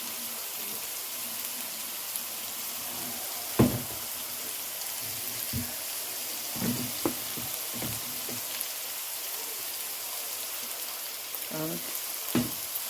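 Garlic frying in a pan for fried rice, a faint steady sizzle with scattered knocks and scrapes of a utensil, and a voice briefly heard.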